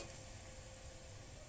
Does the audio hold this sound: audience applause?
no